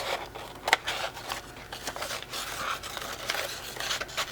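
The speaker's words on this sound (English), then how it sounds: "these out with scissors." Scissors cut out a paper drawing, giving a close, quiet run of irregular snips, scrapes and paper rustles.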